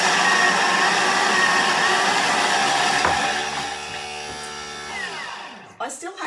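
A food processor spins a carrot and spice mixture for carrot cake bliss balls, whirring loudly and steadily, then winding down and stopping, with a few clunks and light handling noise at the end.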